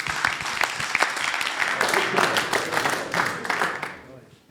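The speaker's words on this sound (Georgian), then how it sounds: "კიდევ ერთხელ აპლოდისმენტები მებრძოლებს." An audience applauds the fighters at a combat sports event, a loud, sustained burst of clapping lasting several seconds before fading out near the end.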